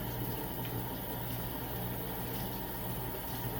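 Water runs and splashes steadily at close range while a face is rinsed of soap. The rushing wash is unbroken throughout.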